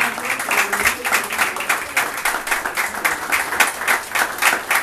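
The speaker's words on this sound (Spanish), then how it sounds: "Un fuerte aplauso" Dense, sustained audience applause at a hotel and tourism industry chamber's leadership ceremony, many hands clapping steadily and loudly throughout, filling the room without a break.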